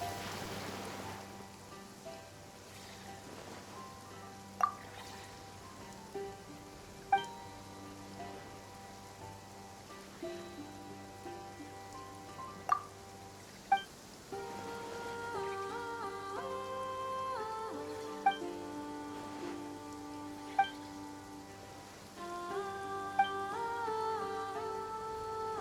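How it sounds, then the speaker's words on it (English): Rain falls steadily in the video game Genshin Impact, a soft, even patter heard alone under game music, with a few brief louder drops. "It's raining again?"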